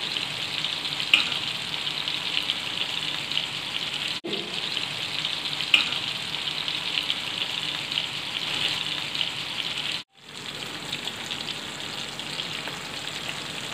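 Kendai fish (carp) frying in a pan, a loud continuous sizzle with crackles that holds steady across the whole stretch, cut by two brief drops in sound.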